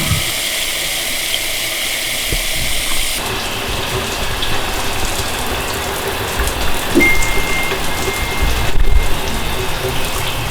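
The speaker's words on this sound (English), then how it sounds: "We're gonna rinse it off in the sink and see what we got." Running tap water splashes steadily into a sink while a bleached deer skull is rinsed under it, a continuous close hiss with a brief louder surge near the end.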